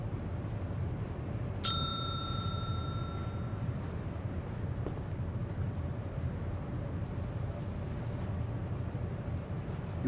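A ship's bell in a point-and-click adventure game gives a single clear metallic ding that rings out and fades over a low, steady ambient hum.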